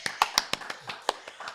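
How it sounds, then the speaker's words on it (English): A few people clapping for guest Mide Naike: sparse, sharp individual claps in an uneven rhythm, close and fairly loud, brief and without voices. "can we please give a round of applause to Mide Naike?"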